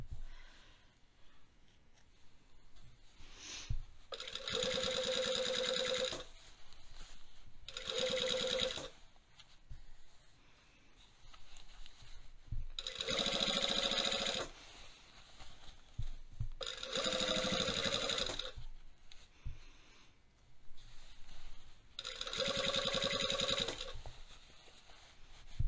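A sewing machine stitches along a seam line on a pair of trousers, running in four separate bursts of several seconds each with short pauses between them, close and steady with no talking.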